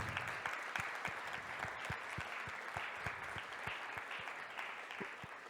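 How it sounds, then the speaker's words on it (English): Quiet, fairly distant audience applause for the winning team at a Red Bull Basement national final at a tech event, with steady clapping and a rhythmic thumping beat underneath. "Applause for Entity!"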